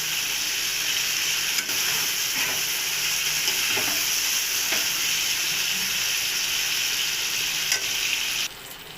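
Spice masala with sugar sautéing in oil for a prawn dal, a dense, continuous sizzle with occasional soft taps from a spoon, close and steady until it drops slightly at the very end.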